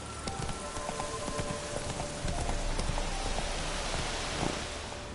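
In The Witcher 3, Roach trots with a quick, even clip-clop of hooves, close and fairly loud, mixed with a steady patter like rain falling on the ground, with no talking.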